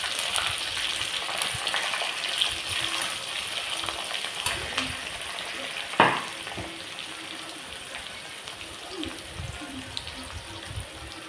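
Onion frying in a pan for a bitter gourd bhaji, giving a steady close sizzle and crackle with a sharp utensil knock partway through.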